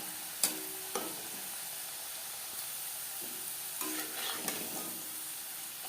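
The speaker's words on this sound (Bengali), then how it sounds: "হাই ফ্লেমে তেল গরম করে নিয়েছি ভাজবো মিডিয়াম ফ্লেমে" French fries frying in hot oil over a medium flame give a soft, continuous sizzle, punctuated by a few sharp clinks and scraping stirs of a utensil against the pan.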